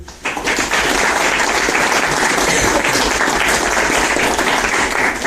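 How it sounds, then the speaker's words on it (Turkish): A classroom of children bursts into loud, continuous applause, dense clapping that starts abruptly and holds steady for several seconds. "Kendinizi bir alkışlayın"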